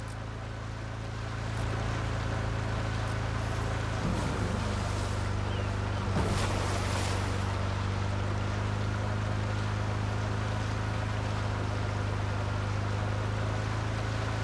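Police boats running across the water in Watch Dogs Legion: a loud, steady engine drone with a low rumbling hum, wash and wind over it, and a brief swell of splashing partway through.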